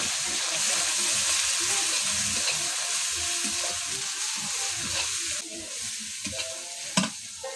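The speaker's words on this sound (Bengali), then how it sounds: "আদা রসুনটা ভাজা হয়ে গেছে" Ginger and garlic paste fries in hot oil in a pan while being stirred, producing a strong, continuous sizzle with scraping stir sounds up close, easing slightly near the end.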